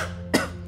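A single short, husky cough from a RuneScape game character bursts out abruptly over a low, steady background hum, close and fairly loud, then fades.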